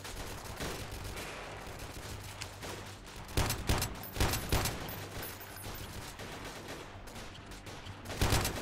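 Scattered video-game gunfire from the night-time guerrilla fight in Freeman: Guerrilla Warfare, a continuous rattle of shots, a few louder closer cracks standing out against fainter distant firing.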